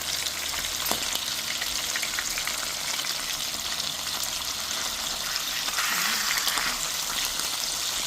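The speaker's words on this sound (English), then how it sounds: "I just want to sear it until it's brown on both sides." Pot roast beef seasoned with Himalayan pink salt and seasoned pepper sears in a hot pan, a loud, steady, dense sizzle that continues unbroken with no voices.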